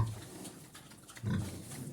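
Low, soft grunting from pigs eating, in short bursts, with a louder snuffling grunt near the end over quiet background rustle.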